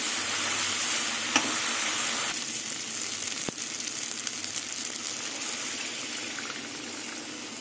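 Water poured into a pan of potato and taro curry frying in oil, a loud continuous sizzle and hiss that softens slightly after a couple of seconds, with a few faint clicks, close up and without speech.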